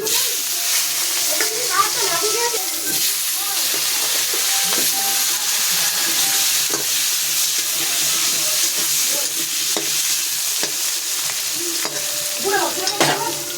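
Potatoes hit hot oil with whole cumin seeds and fry with a loud, constant sizzle that holds for the whole stretch, broken by occasional stirring clatter.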